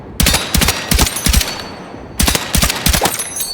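Close, loud bursts from a 45 stubby gun in a video game, several quick rapid-fire volleys in rhythmic groups, a short pause, then more bursts.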